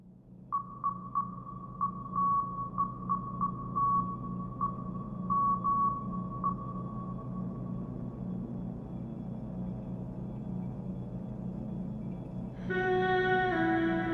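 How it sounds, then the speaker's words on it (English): Short electronic beeps tap out a Morse code pattern in a series of irregular pulses over a low, dark rumble, then stop and give way to a brief swelling tonal chord near the end. "The music stops, giving us a moment of silence before the Morse code breaks it."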